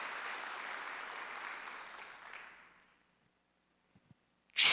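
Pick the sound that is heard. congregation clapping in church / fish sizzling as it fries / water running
congregation clapping in church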